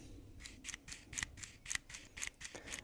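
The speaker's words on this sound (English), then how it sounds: "you hear this kind of gross plastic on plastic rubbing sound" Close-up plastic-on-plastic rubbing of a Benchmade Shootout OTF knife switch, a series of about eight short scraping strokes in an uneven rhythm, with nothing else around them.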